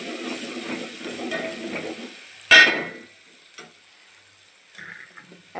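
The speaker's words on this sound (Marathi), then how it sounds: "आणि थोडीशी हळद पण टाकते ह्यामध्ये पण थोडंसं हलवून घ्यायचं" Turmeric being stirred into hot tempering for dal in a pan, a loud sizzling burst that flares up briefly and then fades to a soft crackle with light scraping.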